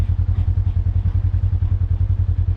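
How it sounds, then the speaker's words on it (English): A Polaris RZR engine on a forest trail bouncing off its rev limiter, with a loud, deep, rapid pulsing stutter repeating evenly throughout. "Bouncing off the rev limiter"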